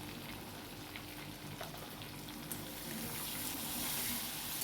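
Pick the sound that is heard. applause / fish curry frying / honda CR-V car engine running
fish curry frying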